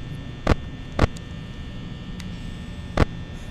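A steady electric fan hum runs through a Five Nights at Freddy's: Help Wanted scene, broken by three sharp clicks or knocks.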